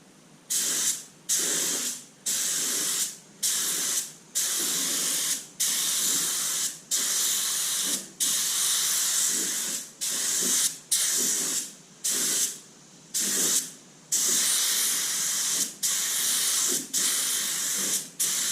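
A spray gun laying down black paint in a long run of steady hissing bursts, each lasting about a second with brief pauses between passes, close and even in level.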